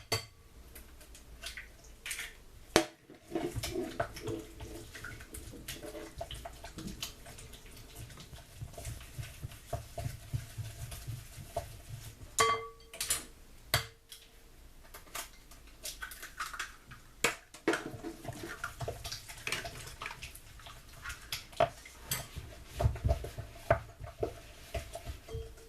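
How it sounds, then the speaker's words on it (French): Eggs being beaten one at a time into choux pastry dough, with soft irregular scraping, tapping and clinking of a utensil against a bowl, close and fairly quiet, with no talking. "on ajoute nos œufs un à un et on mélange rapidement."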